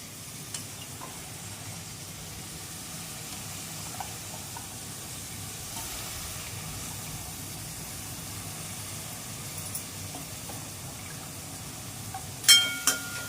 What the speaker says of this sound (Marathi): मसाले आपले परतून झाल्यानंतर धुवून घेतलेला घेवडा घालून घेते।